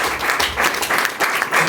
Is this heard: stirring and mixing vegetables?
no